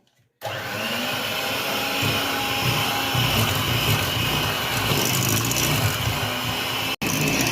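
An electric hand mixer whips butter into a fluffy cream for an apple charlotte, a steady loud motor whir running continuously for several seconds before cutting off abruptly near the end.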